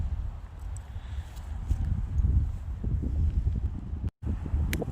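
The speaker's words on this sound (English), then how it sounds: "You can see how windy it's getting." Strong wind blows at an urban midwinter campsite, a steady rough roar buffeting the microphone with brief drops, close and fairly loud, no talk.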